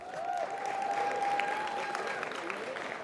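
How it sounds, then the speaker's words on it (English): An audience at the Franklin County Soul Talks Empowerment Summit gives staff a round of applause: dense, steady clapping from a crowd that fills the whole stretch, with a faint sustained tone running under it. "Do me a favor and give them a round of applause."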